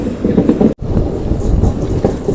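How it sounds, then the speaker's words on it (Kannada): Garib Rath Express train rolling into Begumpet station, a steady loud rumble of rail cars with rhythmic wheel clatter, close by and continuous apart from a brief dropout. "ಗರೀಬ್ ರಥ್ ಎಕ್ಸ್ಪ್ರೆಸ್ ಈಗ ಎಂಟ್ರ್ ಆಗೈತೆ ರೀ ಬೇಗಂಪೇಟೆಗೆ"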